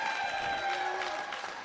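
A hometown crowd applauds at a pro mixed doubles pickleball match in Alabama, steady sustained clapping at moderate distance with a few faint whistling tones over the top.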